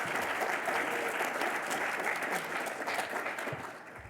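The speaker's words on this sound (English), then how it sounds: "Another round of applause for our panelists." An audience at a Colorado climate summit panel applauds its panelists in a steady wash of many hands, heard at a middle distance and tapering off near the end.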